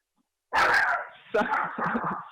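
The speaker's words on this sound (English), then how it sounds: "there goes my doggy, very excited about something" An excited dog lets out several close, loud barks and yips in quick bursts after a moment of silence.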